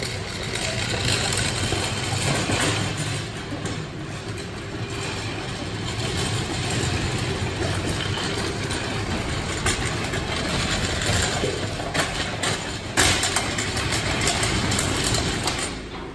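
A 2019 Polaris RZR Turbo XP side-by-side with frame damage runs steadily in a shop, its engine giving a continuous rattling drone at close range for the full stretch with only minor fluctuations.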